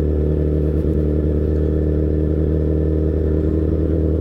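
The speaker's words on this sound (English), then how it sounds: "It's hard to not get, or it's hard to not get loud with this bike." A motorcycle engine roars loud and steady at close range, with a constant low drone and no talking, on a ride along a road through giant redwoods.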